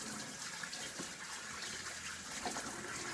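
Tap water running steadily into a kitchen sink while a pheasant is rinsed off, a constant close gushing with faint splashes and clatter.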